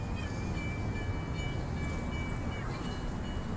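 Train in the video game Cart Ride Around Nothing rolling past, a steady loud rumbling drone that fills the whole moment with a faint high tonal whine above it, no voices.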